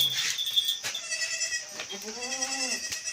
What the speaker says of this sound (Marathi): ते शेळ्या आहेत आपल्या दोन बोकडे या साईडला हा बोकड आहे